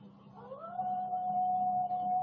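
A dog howls outdoors at night, one long sustained wail that rises in pitch and then holds steady, over a low background hum.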